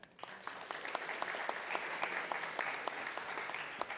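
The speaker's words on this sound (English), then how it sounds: "Give a round of applause to Pooja" An audience at a business talk on AI in Amsterdam applauds a speaker, a steady, moderately distant wash of clapping from a crowd that holds evenly for several seconds.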